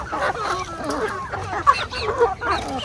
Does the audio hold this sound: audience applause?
no